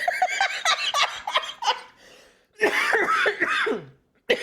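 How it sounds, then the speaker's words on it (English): A person coughs in two harsh, hacking fits, a quick run of short bursts followed after a brief lull by a longer, raspier series that trails off, close and fairly loud. "There's the first good cough of the day"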